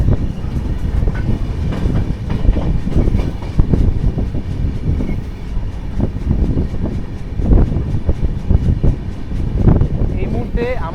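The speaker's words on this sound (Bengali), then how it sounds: "এই মুহূর্তে আমাদের ট্রেন প্রবেশ করছে ছাতনা জংশন।" A train runs into Chhatna junction with a loud, continuous rumble and rhythmic clatter from the wagons, and wind noise rushes past the microphone.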